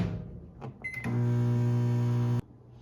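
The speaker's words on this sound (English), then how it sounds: "we're going to put this back in the microwave again on another 30 seconds until our chocolate is fully melted" A microwave oven runs while melting chocolate for a molten lava cake, its steady loud hum starting after a few clicks and beeps, holding evenly for over a second, then stopping abruptly.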